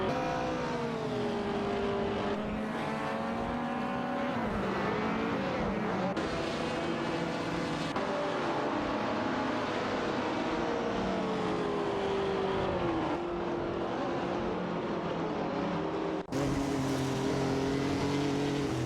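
Racing cars in a video game, a Porsche 904 and an Alpine A110 1800, roar past with engine notes rising and falling as they shift and chase each other, continuous and fairly loud.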